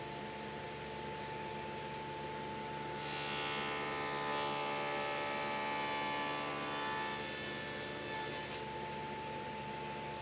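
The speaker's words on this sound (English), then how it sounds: "With the same Dado blade installed, raise the height of the blade to cut the notch in the fence face." A dado blade on a table saw cuts a notch in a wooden router table fence face, a high whining cut rising over a steady motor hum for several seconds, then easing back to the hum.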